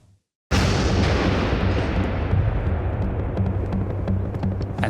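Grenade explosion inside a fortress in Afghanistan: silence broken by a single sudden, loud, close blast that rolls into a long decaying rumble with scattered crackles.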